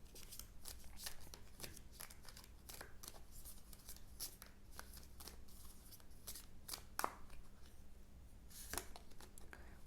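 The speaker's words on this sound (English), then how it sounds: "Let's get you some oracle cards from the Colette Baron Reed deck." Deck of oracle cards being shuffled close up, a quiet run of soft papery riffles and flicks with a faint steady hum underneath.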